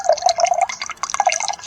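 Orange juice with plenty of pulp pours steadily from a container into a glass, a close liquid trickle and glug with dripping, splashy detail over about two seconds, with no talking.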